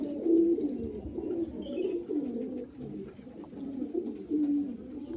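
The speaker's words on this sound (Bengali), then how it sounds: "এগুলো সব নর পায়রা আছে, আপনারা দেখুন।" Male Chotiyal Madrasi show pigeons coo in a continuous low, throaty murmur. Overlapping calls swell and fade throughout, with no talk over them.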